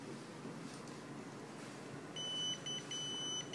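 A phone sounds an SMS notification alert triggered by a Haicom tracker's SOS button: a low, steady background hum, then a run of high electronic beeps with short gaps near the end, fairly quiet.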